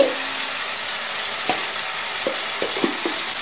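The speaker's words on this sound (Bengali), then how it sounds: "এই দিয়ে আমি এবারে ভালো করে কষবো মশলাটা।" Spices with salt, sugar and peas sizzle steadily in a hot wok while a spatula scrapes and taps now and then, close by.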